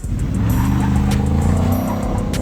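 A big truck at a car meet revs its engine hard, a loud continuous roar with tire squeal as the wheels spin, close and steady throughout.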